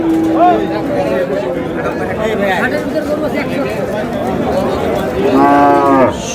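Cows low at the traditional Ambari cattle market in Dinajpur, a twice-weekly livestock market: one short moo near the start and a longer, louder moo near the end, over a steady background of crowd chatter and people talking.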